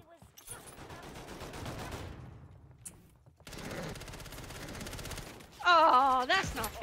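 Turret gunfire in Call of Duty rattles in rapid bursts, broken by a short pause and a clear gap, and then returns, with a loud, sharp burst near the end and voices talking over parts of it.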